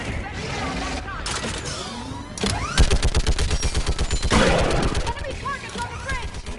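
In the video game Mass Effect 3, a mounted gun fires a loud, rapid, rhythmic burst of shots, with scattered battle noise and voices before and around it.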